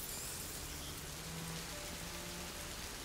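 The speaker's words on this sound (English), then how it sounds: "would you mind if we get out of the rain, please?" Steady rain falls in the video game A Plague Tale: Innocence, a soft, even wash of patter with faint low tones underneath and no speech.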